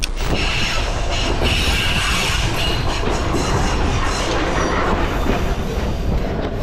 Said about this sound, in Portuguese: Vamos aguardar o trem.